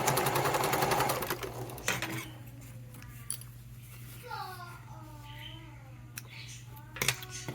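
A sewing machine stitches a fabric wallet in a short rapid burst at the start, then falls quiet under a low hum and small clicks while a voice speaks softly nearby.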